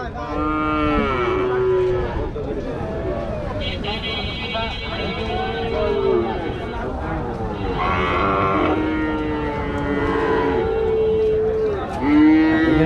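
Calves and cattle at a busy Rajshahi livestock market, mooing again and again, some calls near and loud and others farther off, overlapping one another under steady crowd chatter and nearby voices.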